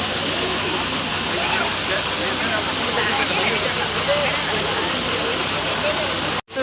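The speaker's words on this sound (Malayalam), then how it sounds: "ഇവിടെ ഒരു വെള്ളച്ചാട്ടത്തിലെത്തിയിട്ടുണ്ട്" A waterfall at the Vagamon adventure park roars as a loud, steady broadband rush that fills the scene without letting up, cutting off abruptly at the end.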